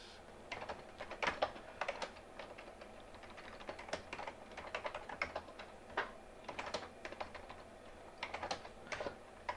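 Keys clatter on the QWERTY keyboard of an old 486 computer, a quiet, uneven run of quick taps and small bursts that goes on without a break.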